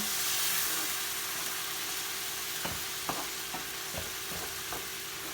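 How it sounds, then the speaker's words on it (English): Chicken stock simmers and sizzles steadily in a pan, with a few soft clinks and stirring taps near the end. "And that's going to simmer away nicely."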